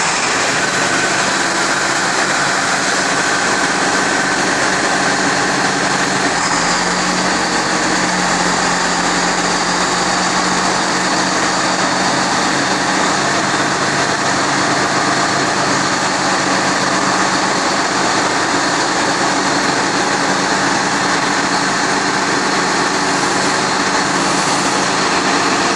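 A 1996 Case IH 7250 MFWD tractor engine runs steadily at a constant pitch, a dense broadband mechanical drone held evenly throughout with no speech.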